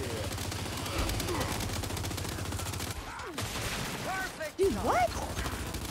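Rapid bursts of automatic gunfire and fusillades in the Gears 5 online shooter, dense and loud throughout, with a voice speaking briefly over the shots.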